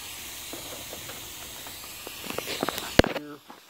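A modified Archer microflame torch fed butane and nitrous gives a steady close hiss, followed near the end by a few sharp clicks and a brief loud pop before it cuts off.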